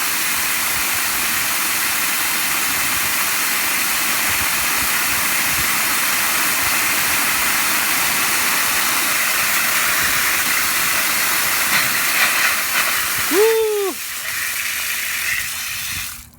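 A loud, steady roar of irrigation water rushing under pressure, broad and hissing, ending with a brief squeaky valve whine before it tapers off.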